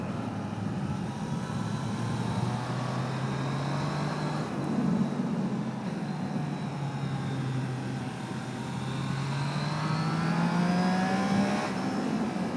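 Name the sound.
road traffic while riding a Triumph Trident 660 motorcycle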